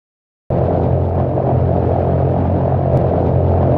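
A USMC bomber aircraft flies in a Minecraft Tyrants and Plebeians Mk.4 mod pack, its engine drone starting abruptly and holding as a steady, loud, low rumble throughout with no talk.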